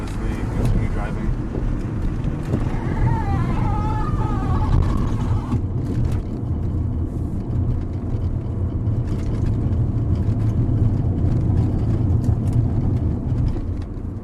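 A Mini Cooper S R56 on lowering springs and adjustable camber plates driving around a lake, its engine and road noise a steady low rumble heard from inside the cabin, with a voice talking over it.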